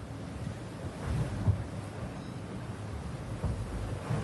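Wind and waves around a racing sailboat at sea during the Vendée Globe, a solo round-the-world race: a steady, rushing roar of wind and surf with periodic swells and thumps of water against the hull, no talk.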